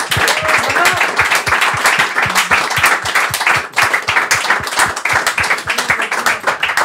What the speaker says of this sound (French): je voudrais demander à chacun et à chacune d'applaudir César et Flavia Coelho.